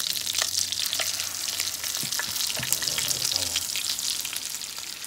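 Venison burgers fry in a hot pan with a steady, close sizzle and crackle throughout, broken by a few sharper spits and pops.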